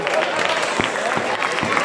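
A crowd applauds a brave recortador at a Spanish bull-running encierro in Azagra, with scattered sharp claps over a busy murmur while a commentator talks over it.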